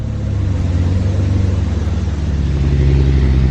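A Peterbilt log truck's diesel engine labors up a very steep hill, a loud, deep, steady rumbling drone that swells slightly as it strains under load.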